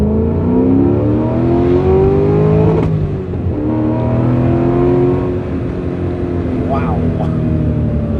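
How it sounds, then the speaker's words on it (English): An LS V8-swapped Porsche 944 accelerates hard in second gear, its engine note climbing steadily and loudly in pitch, with a brief dip at a shift-like break before rising again, heard from close by inside or near the car. "Here, we'll do a little second gear acceleration."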